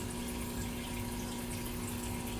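Water drains back into a fish tank during tank maintenance, a steady, even rush of flowing and splashing water with a constant low hum, heard alone without any talking.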